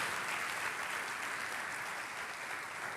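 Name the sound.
applause in church for the King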